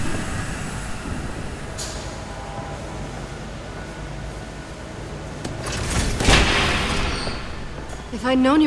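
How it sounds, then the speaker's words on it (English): Heavy train rolling closer in a Batman video game, a broad steady rumble that swells louder and rougher toward the end, with a brief metallic clank near the peak. "There's a train coming."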